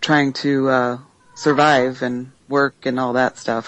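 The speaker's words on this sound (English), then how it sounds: "I'm sorry if you hear my cat in the background." A house cat meows loudly and repeatedly close by, its drawn-out cries overlapping a person talking during a conversation.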